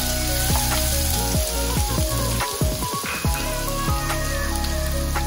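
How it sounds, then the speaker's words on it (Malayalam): Crushed garlic sizzles loudly in hot oil in a pan for spicy Laal Maas, with a steady frying hiss throughout and repeated scraping, clattering strokes of stirring close by. "ഇതൊന്ന് ജസ്റ്റ് ചൂടായി വരുമ്പോ വെളുത്തുള്ളി ചതച്ചു വെച്ചിരിക്കുന്നത് ഇട്ടൊന്ന് ഇളക്കി കൊടുക്കണം."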